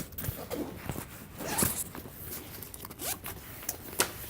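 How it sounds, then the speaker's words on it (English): Front compartment zipper on a Peak Design 45L travel backpack being pulled open in several quick, rasping strokes, close and clear, with light rustling of fabric and no talk. "So you open up the front zipper and you have this kind of compartment."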